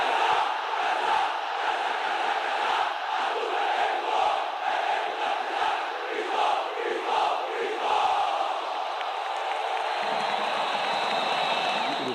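Sport Club do Recife fans in a stadium at the 2008 Copa do Brasil chant their battle cry in a massive, continuous roar of singing voices that stays loud and steady throughout.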